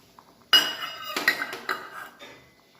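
A spoon stirs lentil dal, urad dal cooked with bottle gourd, chilies and coriander, in a metal pot, giving a short run of clinks and scrapes against the pot over about two seconds, close by, with no talking.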